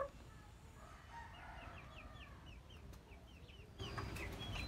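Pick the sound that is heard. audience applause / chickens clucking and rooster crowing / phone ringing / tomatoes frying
chickens clucking and rooster crowing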